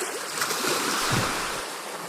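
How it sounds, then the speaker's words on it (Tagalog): Slow steamboat Vapor Tabo pushing along the winding Pasig River toward Laguna, a washing, surf-like water churn with wind noise, fairly loud and continuous without voices. "Ang barkong nahihirapang dumaan sa palikulikong Ilog Pasig."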